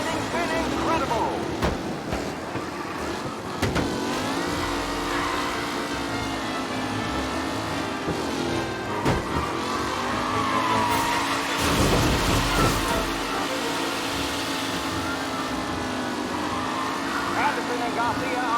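Racing cars roar through a race in Mafia Definitive Edition, engines droning steadily with tire noise and a rumbling swell midway, continuous and loud beneath a race announcer's commentary.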